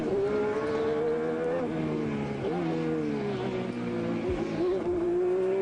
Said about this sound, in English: Listen to the engine, it's marvellous.